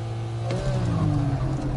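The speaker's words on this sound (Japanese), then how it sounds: "ポルシェはクラッチをいたわりながらスタート。" Sports cars launching at the start of a drag race, a Porsche easing its clutch off the line against a GT-R, with a loud steady engine roar rising in pitch over under two seconds.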